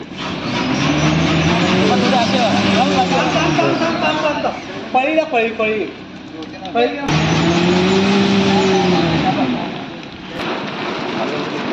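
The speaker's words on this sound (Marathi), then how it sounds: "गाडी आमची ते गटात अडकले." A car stuck in a roadside ditch during monsoon rain near Sondai fort in Karjat revs hard in long rising and falling surges, tires spinning, while people talk and shout over the engine.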